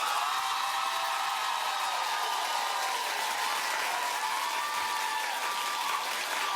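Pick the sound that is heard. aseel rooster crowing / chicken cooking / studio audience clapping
studio audience clapping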